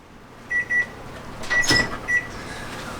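A kitchen oven timer is set with a few sharp electronic beeps, two short tones early, then a louder beep with a click and one more tone, close by in a quiet room.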